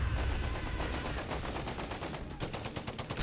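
Dense, continuous gunfire from a Company of Heroes 3 match, rapid machine-gun bursts around a .30 cal position mixed with a grenade blast, loud and unbroken throughout with sharp repeated reports near the end.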